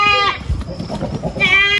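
Goats bleat on a goat farm, two loud close wavering calls at the start and end, with a jumble of quieter movement and background noise between them.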